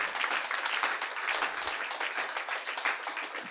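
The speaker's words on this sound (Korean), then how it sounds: "박수로 주님께 영광 돌려." A church congregation bursts into applause, a dense wash of many hands clapping at once that rises and dips slightly and carries on steadily.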